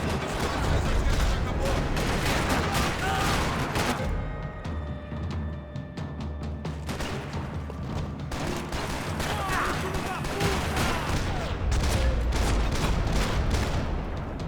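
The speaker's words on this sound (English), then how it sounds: "Another parking lot rattling with gunfire." Gunfire crackles across a parking lot in the Max Payne video game, with repeated rapid bursts and heavy booms throughout and voices mixed into the din.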